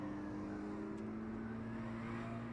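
Cars driving in a battle royale video game, a faint steady engine drone with a sustained tonal hum as vehicles travel along together, continuous and quiet with no talking.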